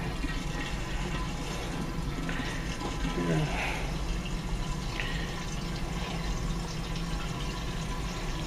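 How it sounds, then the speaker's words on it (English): Chocolate raspberry port wine from a Winexpert kit splashes against the side of a carboy during transfer, a steady liquid pour and trickle running throughout, with a brief upward gurgle partway. "A lot of times what I do is I let it splash on the side so I get out some gas in the process."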